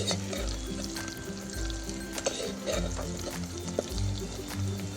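Cumin and garam masala frying with onions in a pot for a Kashmiri collard greens and chicken dish, a continuous sizzle with stirring scrapes and low rumbling bursts throughout.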